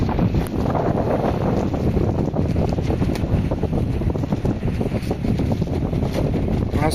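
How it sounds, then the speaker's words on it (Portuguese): Strong wind buffets the microphone at a riverside campsite, a loud, constant roar of rushing air with no break. "Tá uma ventania danada."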